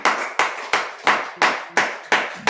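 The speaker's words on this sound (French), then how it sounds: "On acclame plus fort" A church congregation claps together in a steady rhythm, about three sharp, close claps per second, loud and with no voices over it.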